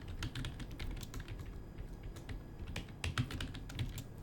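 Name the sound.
typing on a computer keyboard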